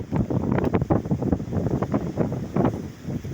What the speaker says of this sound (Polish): słychać, bo wiatr jest mocniejszy